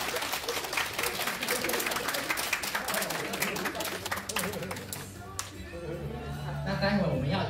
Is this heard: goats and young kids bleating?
no